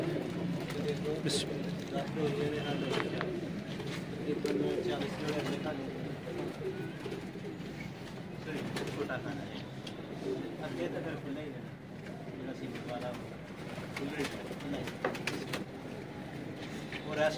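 Sialkoti pigeons cooing in a loft, soft low murmuring coos running throughout beneath someone talking, with scattered wing flutters and light rustling nearby.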